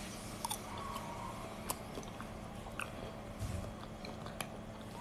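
Close, quiet bites and chews into chewy grass jelly, with a few soft wet crunches and squishy clicks over a low steady background hum.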